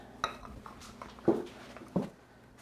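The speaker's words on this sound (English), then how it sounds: "To serve, I like to put them on a little dish." Small creme brulee dishes are set down onto a serving dish, three light ceramic clinks spaced out against a quiet background.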